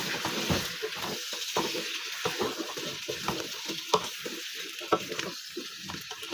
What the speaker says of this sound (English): I can now add my potatoes so that they can get the oil.